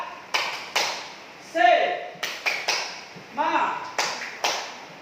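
A series of sharp claps in a steady rhythm, close and fairly loud, with short sung or spoken bursts mixed in between.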